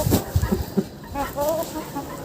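Cochin hens and a rooster cluck close by in short, uneven bursts, several distinct calls over a couple of seconds with a faint murmur of farmyard noise between them.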